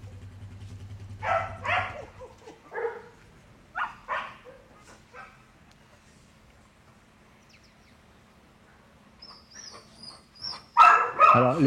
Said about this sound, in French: je suis plus souvent dans mon chenil à m'occuper de mes chiens de chasse.